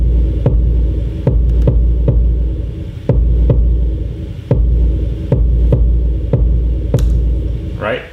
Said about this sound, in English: Don't ever add reverb on a kick. I've added reverb on a kick.